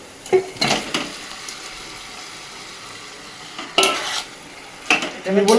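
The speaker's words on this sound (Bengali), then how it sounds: "এবার মেখে রাখা চিকেনটা দিয়ে দেবো" Marinated chicken tipped into a pan of masala fried in mustard oil with chilli, ginger, garlic and turmeric, stirred in with loud scraping bursts and sizzling between them, close by and without talk.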